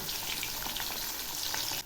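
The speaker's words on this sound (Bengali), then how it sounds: "এখন আমি করলাগুলো ভেজে নিচ্ছি।" Bitter gourd pieces frying in a pan of hot oil, a steady dense sizzle with faint stirring scrapes, close and fairly loud throughout, with no voices.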